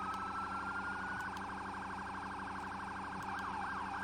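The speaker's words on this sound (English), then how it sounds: "We'll switch up the sirens here" Emergency vehicle siren in Farming Simulator 17 during a fire rescue call, a steady wailing tone sweeping up and down continuously over a low engine drone, loud and alone.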